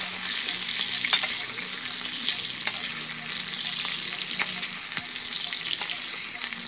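Fermented fish (pla som) fries in a pan with a steady, close crackling sizzle throughout, punctuated by occasional sharper pops and light stirring scrapes.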